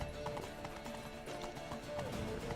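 Horse hooves clip-clop at a steady riding pace in The Witcher 3 video game, a faint, quick rhythmic patter of footfalls running through the whole moment.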